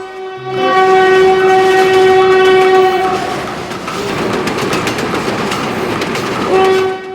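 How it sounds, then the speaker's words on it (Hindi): A fast train approaches in a cartoon story effect. A loud steady horn sounds first, then rumbling clickety-clack wheel noise builds, and the horn returns at the end. No one speaks over it. "वो तेज रफ्तार ट्रेन जैसे ही उनके पास आने वाली थी"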